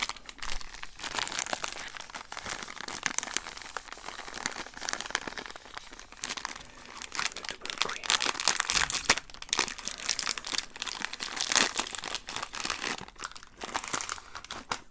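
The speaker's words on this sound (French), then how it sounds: "Bon, on va ouvrir le double cream." A crinkly plastic package of Oreo Double Cream cookies is opened close to the microphone, giving steady crackling and rustling with tearing and crunching textures that continue throughout.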